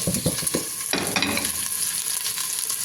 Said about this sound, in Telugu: మెంతులు చిట్టపట్లు ఆడిపోతున్నాయి